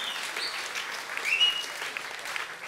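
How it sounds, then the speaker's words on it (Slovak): A crowd at an outdoor accordion music event by a pond claps warmly, steady moderate applause with a brief whistle rising midway, sustained for a couple of seconds. "Ó, to je krásny aplauz."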